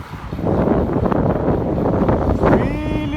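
Strong wind blowing across an open dike during a bike ride, a steady gusty rush over the microphone, with a faint whine rising near the end.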